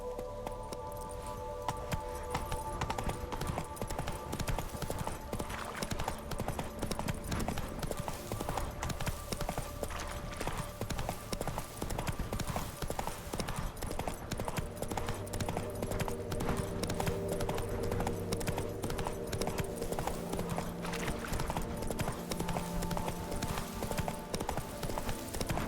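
Roach, the horse in The Witcher 3: Blood and Wine, gallops with a fast, steady rhythm of hoofbeats that runs without a break over low game ambience and music.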